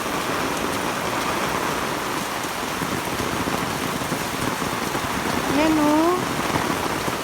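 Heavy typhoon rain pours down in a steady, dense roar during Super Typhoon Carina, with a person speaking briefly near the end.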